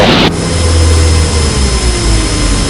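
A Cessna 150 light aircraft engine drones loudly and steadily after a brief burst at the start, its low rumble continuing with a slowly falling tone as power drops.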